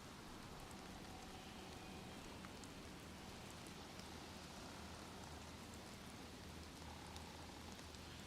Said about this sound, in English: I heard the rain.